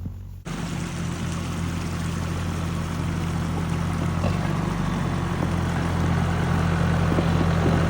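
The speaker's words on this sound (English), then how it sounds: "It did take the cows a couple of days to get used to the engine noise of this tractor" Tractor engine running steadily on a farm, a loud, continuous low drone with a constant hum that builds slightly after a brief quiet start, no voices.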